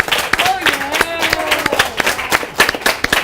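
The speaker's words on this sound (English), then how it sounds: "So let's give her a big round of applause." Applause for a long-serving middle school teacher at a school staff gathering, dense clapping from a group mixed with voices talking over it.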